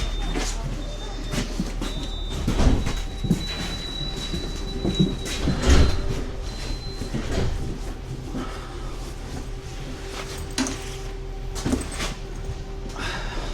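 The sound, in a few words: riding inside a tram in Poznań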